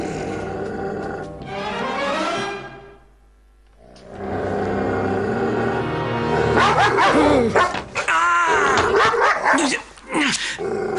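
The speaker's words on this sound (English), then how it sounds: "Good doggy." A dog in an animated series barks, yips and whimpers in bursts between stretches of speech, fairly close and loud.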